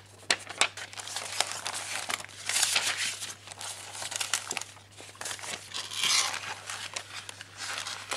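A clear plastic sticker packet being handled, crinkling and rustling in irregular bursts with sharper crackles and pauses, close up over a low steady hum.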